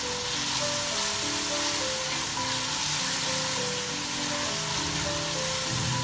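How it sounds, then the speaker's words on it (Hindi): Garlic and ginger paste frying in a pan for a mutton trotters and brain curry, with a steady, dense sizzle that continues throughout and has no speech over it. "इसको मैं थोड़ा सा भूनूंगी, इसका कच्चापन खत्म हो गया लहसुन अदरक का"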